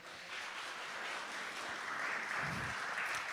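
A church congregation applauds a speaker, a steady wash of clapping that swells slightly toward the end, heard from within the room at moderate level without speech over it.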